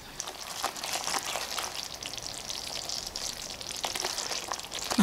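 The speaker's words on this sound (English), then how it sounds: "So I'm going to continue to stir this until this will reduce a bit" Mackerel curry sauce sizzles and bubbles steadily in a pan as it reduces, a soft continuous frying crackle with occasional louder spits and stirring clicks, no talking.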